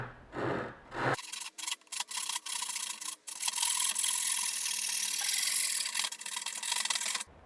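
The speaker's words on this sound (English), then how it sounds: "this is my Japanese pull saw, and this is what I'm going to use to quickly cut this off." A Japanese pull saw cuts quickly through a thin piece of wood, walnut or oak, in a steady close rasping stroke that runs for several seconds after a brief opening noise.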